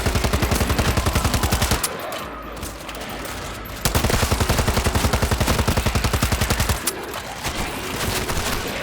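Rapid automatic gunfire in the zombie shooter World War Z, loud continuous bursts of rattling shots that pause briefly, then resume at a steady rhythm before tapering into scattered fire.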